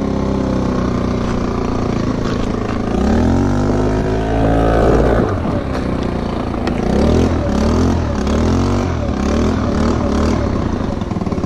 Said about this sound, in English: Tell me if y'all like the muffler now. It doesn't sound like a damn freaking wind blower no more.